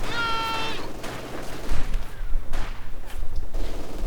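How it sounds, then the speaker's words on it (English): Infantry gunfire in the Company of Heroes 2 strategy game, bursts of rifle and machine-gun fire with scattered shots mixed into loud battle noise, briefly over an in-game voice line. "Infantry fire incoming."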